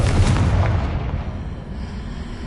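A Confringo fire spell explodes in Hogwarts Legacy, one loud booming blast with a deep rumbling low end that rolls off into a fading tail.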